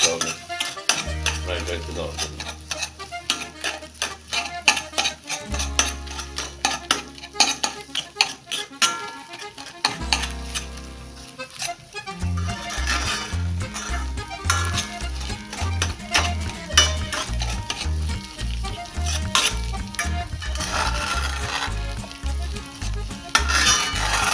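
Eggs being broken into small pieces while frying in a pan for fried rice, with rapid, repeated spatula scrapes and clinks against the pan over a sizzle, accompanied by rhythmic background music.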